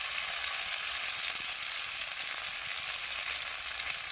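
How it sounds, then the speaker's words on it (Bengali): Chopped tomatoes with salt tipped onto onion, ginger and garlic already fried in a pan, giving a steady, bright sizzle with no voices over it. "এবার আমি দিয়ে দেব টমেটো কুচি, ওর সাথে আমি দিয়ে দেব লবণ"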